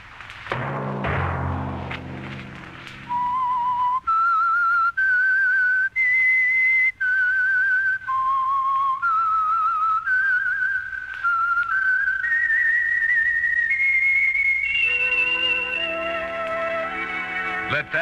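A lone whistler carries the theme tune of the 1951 radio show The Whistler, clear sustained notes stepping up and down in a slow melody, preceded by a brief orchestral opening chord.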